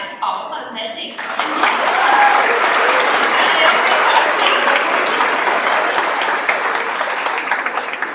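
Applause from an audience at a ceremony honoring a professor emerita, swelling after a brief lead-in of speech into loud, sustained clapping that fills the room and keeps going to the end.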